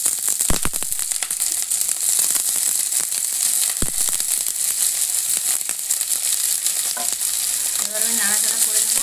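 Chopped onion and garlic fry loudly in a pan for a fish dish, a steady dense sizzle with scraping stirs and a couple of sharp clatters, and no one talking.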